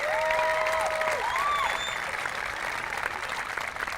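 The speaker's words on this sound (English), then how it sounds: "So I think we owe these students another great round of applause for their great work ethic." Audience applause for students at the closing ceremonies of a drum major clinic: dense, steady clapping from a large crowd, with a few whistles rising above it early on, lasting the full four seconds.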